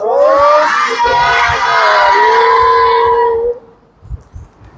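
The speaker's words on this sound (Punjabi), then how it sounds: "ਜਕਾਰਾ ਲਗਾਓ ਜਕਾਰਾ ਇੱਕ ਜਮਾ ਜਕਾਰਾ ਲਗਾਓ" A crowd of children at a Sikh Gurmat camp gathering shouts the jaikara chant together in one loud, sustained, tonal cry lasting about three and a half seconds, then falls away into scattered murmurs.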